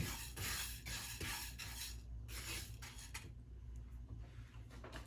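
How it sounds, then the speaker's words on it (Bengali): Mung dal stirred while it dry-fries inside a rice cooker pot, with a spoon scraping and rubbing against the metal in a few quick bursts and then slower strokes, close and fairly quiet, no voices. "তো চলুন আমি এখন ডালটা ভেজে নিই। একটু নাড়তে থাকি।"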